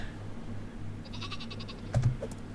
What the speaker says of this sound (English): How does the goat on a rope work?